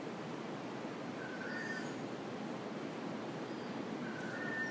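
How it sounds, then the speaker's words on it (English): Soft, steady wash of ocean surf, a constant distant rushing with faint bird chirps above it. "Sound of the waves."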